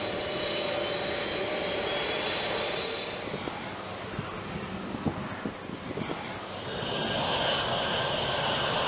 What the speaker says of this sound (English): it takes time to warm up the plane's four giant GE TF-39 turbofan engines